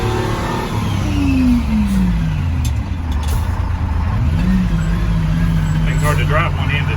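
A Detroit Diesel-powered fire truck engine drones loudly and steadily while driving, with a rising then falling pitch sweep as it accelerates and shifts, and a voice talks over the continuous engine noise.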